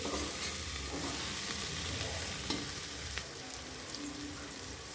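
Spices, green peas and potatoes sauté in oil, a close crackling sizzle with frequent scraping stirs and light utensil taps throughout, no speech.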